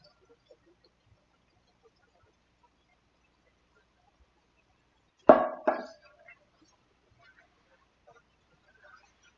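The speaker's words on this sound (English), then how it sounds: "Always makes such a gross sound. It's like just plops in." Liquid is poured into a vegan meatball mixture and lands with one short, wet double plop, close and distinct against near silence.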